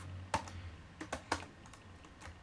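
Keys tapped on a computer keyboard while a project name is entered, a short run of light, uneven clicks with a couple of firmer strokes, heard close and alone.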